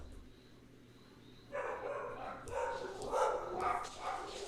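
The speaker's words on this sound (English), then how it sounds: "my dog started barking as soon as it's shocking" A dog barks in a series of yaps from about 1.5 seconds on, fairly close and moderately loud over a low indoor hum, with no talk.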